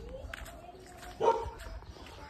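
A single short dog bark sounds midway at moderate distance against low background noise.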